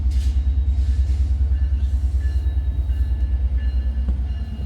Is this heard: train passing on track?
yes